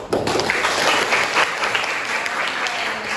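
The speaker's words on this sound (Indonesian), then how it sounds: "Terima kasih banyak, kasih applause dong." Classroom audience clapping after a group presentation, steady dense applause from many hands, close and lively, lasting a few seconds.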